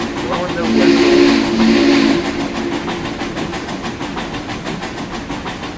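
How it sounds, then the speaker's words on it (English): A steam locomotive whistle in Trainz Railroad Simulator 2019 blows one clear, sustained tone for about a second and a half over the hiss and rumble of the moving train. "Blowing their whistles"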